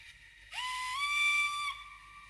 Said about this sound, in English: The whistle's 2, I know that much.